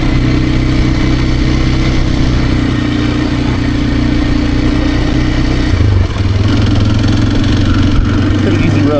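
A Kawasaki KLX230R dirt bike engine drones loudly and steadily while riding, with a pitch drop around a gear change partway through, alongside wind buffeting.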